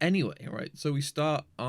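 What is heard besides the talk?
No everyday noises stand out.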